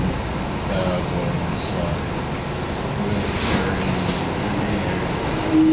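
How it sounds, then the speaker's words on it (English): A Brooklyn-bound New York subway R62A 4 train rides between stations, a steady loud rumble of wheels on track with faint squeals and clicks heard from inside the car. "This is a Brooklyn bound 4 train."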